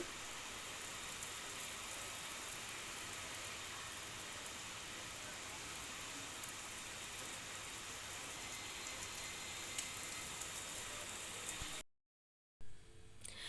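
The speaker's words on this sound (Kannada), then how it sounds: "ಗಾಳಿನೂ ಇದೆ, ಹಾಗೆ ಮಳೆನೂ ಕೂಡ ಇದೆ" A steady, dense hiss of heavy rain with wind, faint and constant, with a brief gap of silence near the end.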